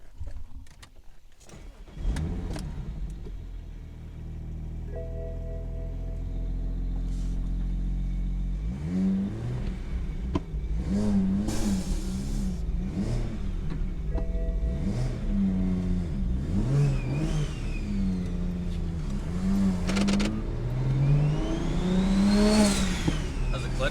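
BMW 335i single turbo with a twin-disc clutch starting, idling, then driving off with repeated revs rising and falling through the gears, loud and close, with people talking over it.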